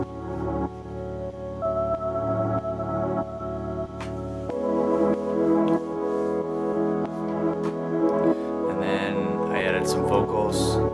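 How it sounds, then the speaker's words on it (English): An FM bell synth built from a Reason combinator and Thor with reverb rings out in bright, sustained tones over a dense electronic track, the mix thickening halfway through with a deeper bass layer. "then I added an FM bell, which is actually coming through Reason"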